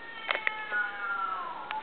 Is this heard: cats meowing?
yes